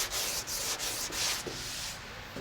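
180-grit sandpaper rubs steadily over a guide-coated car body panel on a Bronco muscle-car build, a close, continuous dry rasp with brief pauses between strokes.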